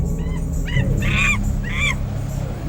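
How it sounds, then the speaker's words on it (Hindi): A peacock calls at night at Bhangarh Fort, with about four loud, nasal, honking cries repeated at intervals over a steady low background hum. "मोर के बोलने की आवाज आ रही थी"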